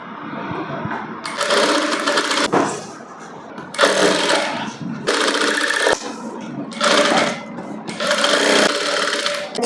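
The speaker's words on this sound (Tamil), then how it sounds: "இப்போ வந்து சுற்றி அடிச்சுக்கலாம்." A sewing machine stitches around pieces of fabric for a princess-cut garment in loud, close bursts of a second or two, stopping and starting again about five times.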